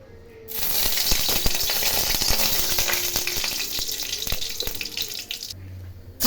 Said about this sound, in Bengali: জিরে ফোড়ন দেব।